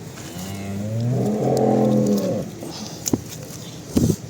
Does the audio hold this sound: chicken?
no